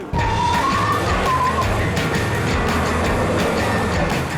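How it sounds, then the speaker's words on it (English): A Ford Fiesta ST launches hard from a race start, its engine droning loud and steady as it accelerates, with short pitch breaks at gear changes and no voices. "Changing gear as quickly as I can, manually."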